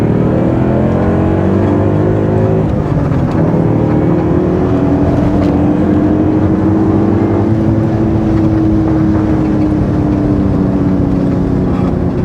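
A BMW 540i E39 with a V8 and manual gearbox accelerates hard, its engine note rising steadily in one long, loud, close pull with a deep rumbling drone and no speech.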